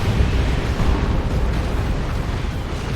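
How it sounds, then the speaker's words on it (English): A mortar barrage in the strategy game Dawn of War 2 lands as a dense, loud, continuous rumble of explosions, heavy and booming, filling the whole moment with no clear gaps. "here comes a Mortar Barrage"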